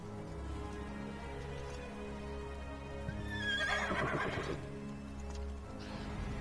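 A horse neighs loudly in the Elder Scrolls Online video game, a single whinny over steady low ambient game music and a faint patter like rain.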